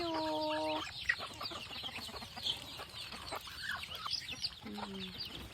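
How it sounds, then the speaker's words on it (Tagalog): Chickens and ducks on a farm cluck and squawk while being fed, with repeated close calls over a busy, chattering background of flock noise. "Nakakatuwa lang isipin na yung dating iilang pirasong pato at manok, ngayon ay ang dami na."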